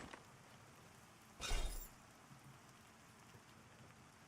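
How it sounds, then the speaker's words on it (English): A steady hiss of a summer rain shower falls in the fantasy MMO Pantheon, soft and even, with one louder splashing burst partway through and no voices. "it's kind of like that summer rain shower vibe"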